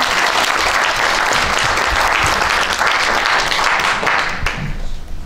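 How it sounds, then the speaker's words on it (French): Dense, steady applause from an audience at a film debate event, loud and continuous for several seconds before thinning slightly near the end. "Applaudissements."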